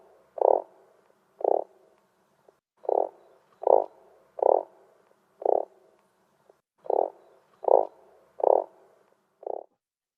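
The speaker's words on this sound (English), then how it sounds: "Let's roll the clip and see what a real toad sounds like." A toad gives a series of about eleven short, low croaking calls, evenly spaced roughly a second apart and heard clearly against a quiet background.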